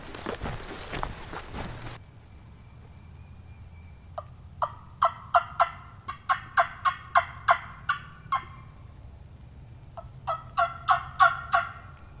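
Wild turkeys gobble in a field during spring turkey season, several rapid rattling bursts repeating at moderate distance after a brief rustle at the start, no talking.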